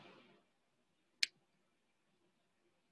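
Two sharp, isolated mouse clicks on a Save button, about two seconds apart, in a quiet room after a brief faint rustle at the start.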